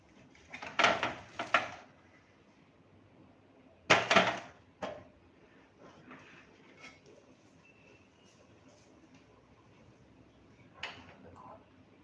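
A metal pan is set down on a kitchen stove before tempering spices for biryani, giving a couple of short clanking knocks followed by a later sharp clatter, faint and close in a quiet kitchen.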